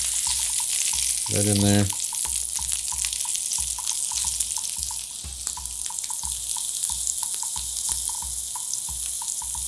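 Mushrooms laid bottom side down into a hot pan, setting off a loud, steady sizzle that runs throughout, with a brief voice speaking near the start.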